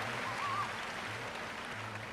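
Steady, dense clapping from a seminar audience fills the whole stretch at a moderate distance, with no pauses or talk over it.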